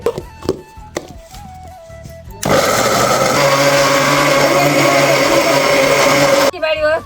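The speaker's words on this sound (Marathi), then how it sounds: "आता मिक्सरच्या भांड्यात टाकून घेऊन बिंगून घेऊ" A kitchen mixer grinder blending chopped pumpkin pieces into paste, starting after a few clattering knocks and running as a loud, steady whir for about four seconds before it stops abruptly.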